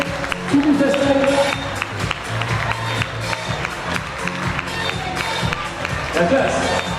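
Steady crowd clapping for a candidate at a local festival queen election, a continuous patter of many hands mixed with cheers and voices over a music bed.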